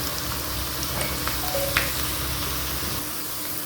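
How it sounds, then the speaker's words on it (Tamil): Okra pakoda frying crisp in hot oil gives a dense, constant sizzle and bubbling close by, with a few faint pops scattered through. "இப்போ இந்த வெண்டைக்காயை இதில் போட்டு நல்லா கிறிஸ்பியாக பொரிச்சு எடுக்கணும்"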